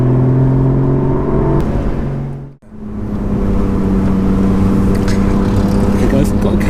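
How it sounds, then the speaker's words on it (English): A Porsche 981 Boxster GTS on a road trip gives a steady, loud exhaust drone while driving, with a brief dip in the middle before the engine note returns and holds. "Don't really need the exhaust on loud really, still makes a nice bellow."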